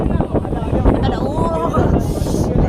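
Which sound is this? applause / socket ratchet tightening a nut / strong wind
strong wind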